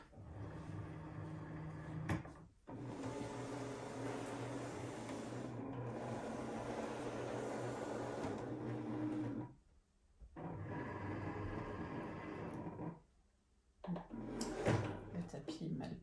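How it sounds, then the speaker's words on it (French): Cricut Maker 3 cutting fabric with its rotary blade for a Christmas stocking, a steady mechanical whirring and rolling hum running close for most of the clip with two brief breaks. "On referme et on peut lancer la découpe."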